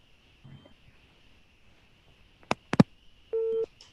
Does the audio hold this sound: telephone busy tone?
yes